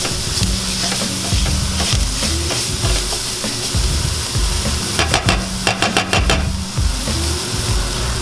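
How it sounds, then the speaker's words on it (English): Shallots frying in butter in a pan, a steady loud sizzle throughout with clusters of quick utensil scrapes and clinks, close up and without talk. "Now grab your shallots, throw your shallots in."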